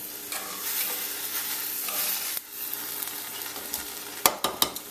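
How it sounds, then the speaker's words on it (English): Roasted tomatoes being crushed into a smooth paste for Caribbean-style salsa, with a steady soft mashing rasp followed by a few sharper, close wet squishes near the end. "be gentle and crush those into a nice smooth paste as best as you can"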